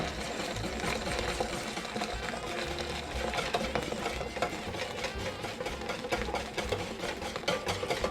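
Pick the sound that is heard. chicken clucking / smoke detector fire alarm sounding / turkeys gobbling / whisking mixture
whisking mixture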